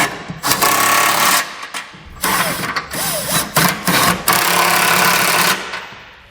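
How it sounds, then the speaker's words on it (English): Trailer hitch hardware on a 2015 Mercedes-Benz being tightened with a 19mm socket during a Curt receiver install: loud, close mechanical bursts of ratcheting and power-tool whirring in several separate runs with short pauses between. "We can then go back and tighten down our hardware with a 19mm socket."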